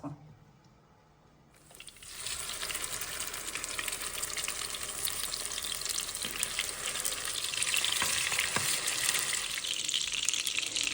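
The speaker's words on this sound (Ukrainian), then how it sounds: "Ось такі красавці у нас будуть смажитися на середньому вогні все ж таки під кришкою, тому що в нас є м'ясо." Zucchini fritters with meat sizzle in a pan on medium heat under a lid, a steady, fairly quiet hiss that starts after a brief near-silence and grows slightly denser, with no talking.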